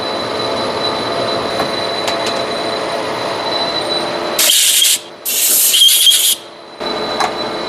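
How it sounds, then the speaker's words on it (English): Steady grinding hum of a drill boring a hole about an inch deep, then two loud, harsh bursts of high-pitched cutting noise separated by a brief pause. "I'm going to drill about 1 inch."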